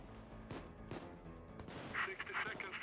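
Sniper rifle fire in a video game, heard as a few sharp shots spaced across the moment over a busy mix of game noise, with brief tonal effects near the end.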